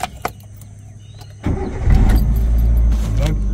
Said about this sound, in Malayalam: ഇനി നമുക്ക് വണ്ടി ഒന്ന് സ്റ്റാർട്ട് ചെയ്യാം.